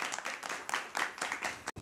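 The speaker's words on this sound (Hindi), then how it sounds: "जोरदार ताली बजाइएगा।" An audience at a rural Hindi poetry gathering claps briefly, a short burst of applause close and fairly loud that cuts off abruptly near the end.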